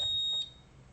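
A multimeter gives a steady, high electronic beep as its probes connect. The tone lasts about half a second, then stops and leaves quiet room hiss.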